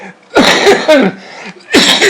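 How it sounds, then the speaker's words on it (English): A couple of loud, close coughs from an 84-year-old in quick succession, harsh and breathy, with a brief gap before another cough. "excuse me, I have to cough every once in a while."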